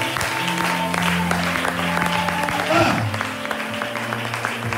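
A church congregation claps and cheers in acclaim of the Lord after a miracle testimony, a short burst of applause over sustained music and voices.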